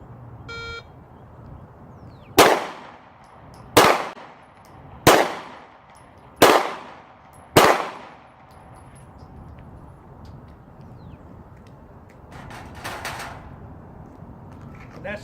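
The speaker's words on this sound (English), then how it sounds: "Five shots fired in 15 seconds." Five sharp handgun shots ring out one by one, evenly spaced over about five seconds, on an outdoor range during a Texas license to carry proficiency test, followed by quieter background noise.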